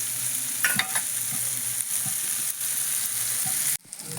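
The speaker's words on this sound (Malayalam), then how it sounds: "ഇപ്പം നമ്മുടെ മത്തി ഇവിടെ നല്ലോണം മുരിഞ്ഞ് റെഡിയായി വന്നിട്ടുണ്ട്" Sardines fry in a pan with black pepper, a close, busy sizzle crackling steadily with scattered sharp pops, then dropping off abruptly near the end to a softer hiss.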